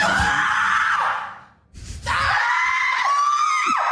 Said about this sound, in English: You can use a scream.